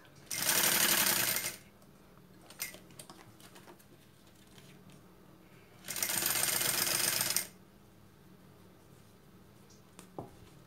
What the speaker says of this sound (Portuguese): vou fazendo a minha costura de pesponto